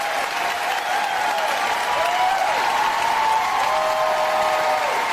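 A town hall crowd cheering and applauding loudly and steadily, a dense continuous roar of clapping with whistles rising above it.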